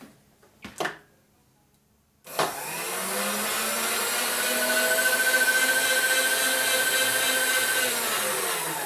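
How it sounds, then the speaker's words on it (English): After a couple of faint knocks, a milling machine cutter bites into a 1990s Evo Sportster motor case being bored out for a 103 ci big bore, producing a steady loud hissing roar with a high, thin whine sustained to the end. "I'm gonna move my cutter this way."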